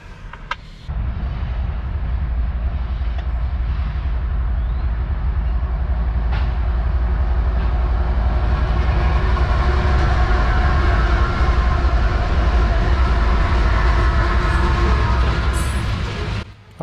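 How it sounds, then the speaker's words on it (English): CSX coal train running south from Evansville, Indiana, toward Cross, South Carolina, rolling past on the tracks with a loud, continuous rumble and clatter of cars that cuts in suddenly and holds steady. "C321, a coal train headed south from Evansville, Indiana to Cross, South Carolina."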